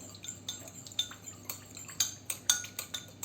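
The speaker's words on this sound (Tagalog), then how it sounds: "You have to mix it until the sugar and salt was dissolved" A utensil clinks and scrapes against a bowl while salad dressing of sugar and salt is stirred, giving a quick run of close, sharp metallic taps in an irregular rhythm with no talk.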